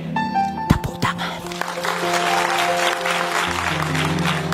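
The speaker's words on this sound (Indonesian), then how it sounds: "Tepuk tangan." A church congregation breaks into applause, a dense burst of clapping that swells and holds steady, layered with sustained organ or keyboard chords and voices.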